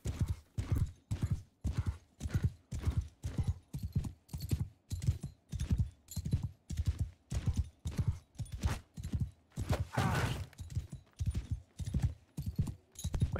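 Horse hooves clip-clop in a steady, even gait, loud and close, in the medieval combat game Mount & Blade II: Bannerlord, with a brief burst of extra noise partway through and no talk.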